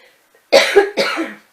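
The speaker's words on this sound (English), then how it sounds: "Talking too fast, that's probably why I coughed or my throat's dry." A single person coughs twice in quick succession, close and loud, the two dry bursts separated by a brief pause with silence on either side.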